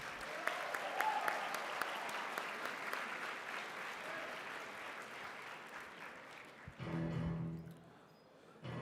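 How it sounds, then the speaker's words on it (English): At the HMUN 2026 opening ceremony, the audience applauds the Undersecretary General of Crisis Committees, a sustained, fairly distant wash of clapping that slowly thins before a brief burst of other sound near the end. "Round of applause, please."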